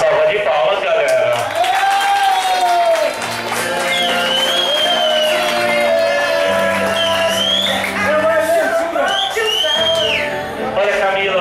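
Audience applause for Camila, mixed with whistles and cheering from the crowd, sustained throughout with tonal whistling and voices rising above the clapping, loud and close.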